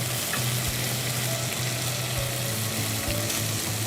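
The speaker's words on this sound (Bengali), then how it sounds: "আমি এখন রাইসটা দিয়ে দিব।" Half-boiled rice tipped into a hot pan of oil for prawn pilaf, giving steady close sizzling and frying crackle with light stirring scrapes throughout.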